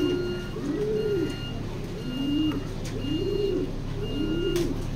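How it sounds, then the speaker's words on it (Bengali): Racing pigeons cooing nearby in a loft, a series of about five rolling, rising-and-falling coos repeating at a steady rhythm over a low background hum, with no talk. "এই কবুতরগুলো রেস করা।"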